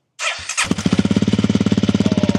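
A Honda CRF300L motorcycle with a Yoshimura full exhaust cranks with a brief starter whir, catches, and settles into a loud, rapid, pulsing idle close by.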